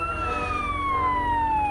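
A police car siren in the Lego Worlds video game sounds as a single steady wailing tone that slowly glides downward in pitch, clear and prominent over faint low background noise.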